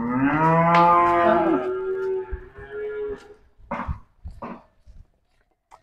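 A Friesian dairy cow on a farm gives one long, loud, close moo that fades out, followed by scattered shuffling and knocks nearby.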